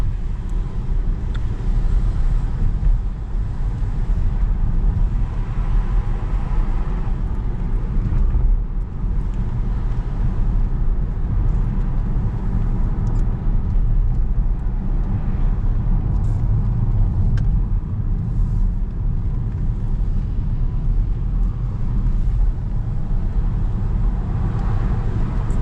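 Interior road noise from a Saab 9-5 on the move, a steady low engine and tyre rumble that runs continuously and fairly loud for the whole stretch, with no voices.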